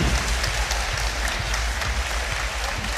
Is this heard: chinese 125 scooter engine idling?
no